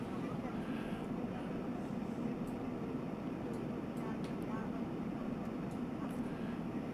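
An airplane takes off in a flight simulator game with a steady low engine roar, continuous and moderately loud, under a faint high whine.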